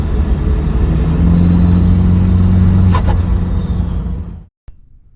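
TDI diesel engine swapped into a Jeep XJ, intake relocated from the cowl, running loud with a heavy low rumble and drone, then cutting off abruptly near the end, leaving faint background noise.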